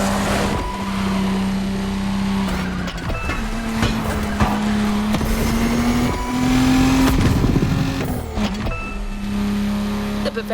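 BMW Z4 M40i roadster engine in The Crew Motorfest, a loud sustained drone that rises and falls with revving and shifts, with brief tire or impact noises and a voice talking over it throughout.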